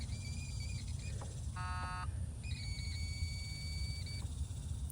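A steady electronic buzzer tone in a 1975 Lincoln Continental sounds faintly over a low rumbling background, with a brief rapid beeping burst partway through.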